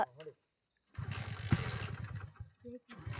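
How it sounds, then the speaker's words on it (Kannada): A motorcycle engine cranks and sputters for a couple of seconds without catching, close by, between short bursts of nearby voices. "ಬೈಕ್ ಸ್ಟಾರ್ಟ್ ಆಗ್ತಿಲ್ಲ."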